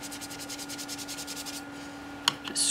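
A brush scrubs dried watercolor paint in quick, rhythmic back-and-forth strokes, a close, dry rubbing that stops, followed by a couple of faint taps.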